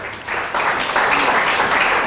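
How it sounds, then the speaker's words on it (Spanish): A church congregation at an evangelical service in El Salvador breaks into loud applause after a short quiet moment, the clapping swelling quickly and staying strong and close. "¿Puede darle un aplauso a él en esta tarde?"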